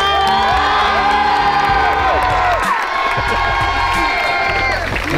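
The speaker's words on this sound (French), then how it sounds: "je propose des gros applaudissements pour" A crowd cheers for a film crew at the end of a Nerf Fortnite making-of shoot, with loud whoops, high shouts and yells rising over scattered clapping, continuing strongly throughout.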